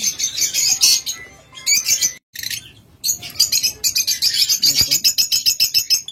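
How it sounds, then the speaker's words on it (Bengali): Many small red-eyed caged pet birds chirp and tweet in rapid, overlapping bursts close by, with a brief pause and a soft coo underneath. "এগুলো কিন্তু লাল চোখের পাখি"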